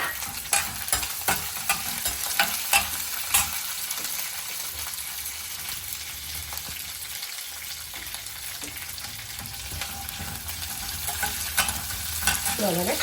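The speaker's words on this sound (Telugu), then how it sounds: "చూసారు కదండి, పప్పులు వేగుతున్నాయి కదా." Lentils frying in oil in a pan with green chillies and ginger pieces added, a continuous close bright sizzle with light crackles and occasional stirring scrapes, no talking.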